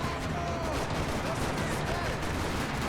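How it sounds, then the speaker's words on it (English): Dense gunfire in the video game Max Payne 3 in a parking lot, a constant loud rattle of shots mixed into a noisy game soundscape. "Another parking lot rattling with gunfire."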